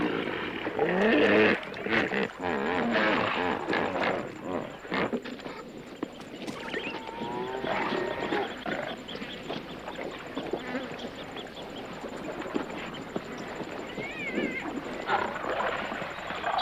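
Lions and hippos in a tense African wildlife standoff: a dense, continuous mix of animal grunts, bellows and honking calls, close and loud throughout, with a voice speaking intermittently over the commotion.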